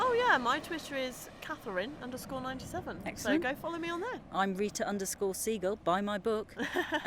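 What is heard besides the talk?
No everyday noises stand out.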